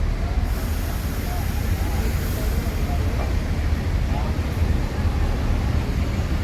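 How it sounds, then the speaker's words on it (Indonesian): Inside the cabin of an Al Hijrah Suites Family bus pulling away toward Padang and Payakumbuh, a steady low engine and road rumble carries on continuously with no talk. "Pintu udah ditutup, bus berangkat."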